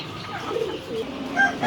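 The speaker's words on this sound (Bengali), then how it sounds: "তো এখানে সব মুরগি।" Chickens at a bird shop give soft, close clucks and short calls for under two seconds, over faint background noise, with no talking.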